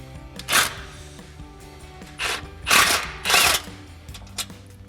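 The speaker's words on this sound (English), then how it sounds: "we'll grab that 16mm socket for the bolt" A 16mm socket ratchet works a bolt on a Jeep Gladiator JT front bumper at close range. It sounds in several separate bursts of rapid mechanical clicking with short pauses between them. No one speaks.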